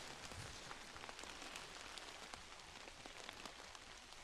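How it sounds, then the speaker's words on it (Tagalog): Steady rain pattering on a camping tent, a dense, even hiss of drops close by with no voices. "ang lakas ng ulan"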